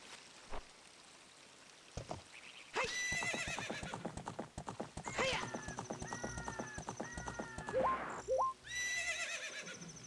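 In the video game Ocarina of Time, a horse lets out several loud, shrill whinnies over a steady rhythm of clip-clopping hooves, with no talk over them.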